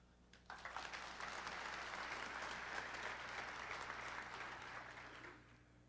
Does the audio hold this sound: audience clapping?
yes